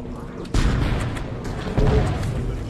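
Rockets launch in Halo: Combat Evolved, two heavy whooshing blasts about a second apart that ring out loud and close over a rumbling battle.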